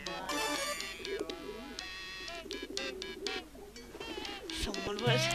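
Passenger pigeons coo in the adventure game Hiveswap, a run of soft warbling calls layered with tonal chimes and bird chirps, fairly clear in the foreground with no speech.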